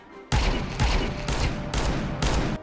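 Rapid, loud gunfire from the revolver, called the worst gun in CS2, on the Office map: five heavy, booming shots at a steady pace of roughly one every half second, each ringing into the next.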